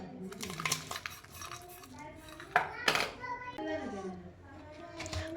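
Pumpkin and jaggery being mashed together in a pot, with utensils clinking and scraping against the metal in uneven bursts. A child can be heard talking in the background.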